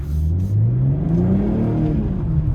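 A 2022 BMW M240i xDrive engine revs up close and loud, its pitch rising smoothly as it accelerates, with a steady throaty roar throughout.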